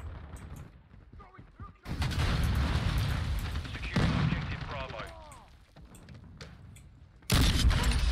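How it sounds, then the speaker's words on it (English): Loud bursts of explosions and gunfire in a Modern Warfare 2 match, with heavy booms starting near two seconds and again near seven, separated by rumbling battle noise and brief game voice callouts. "Hostile cluster mine active."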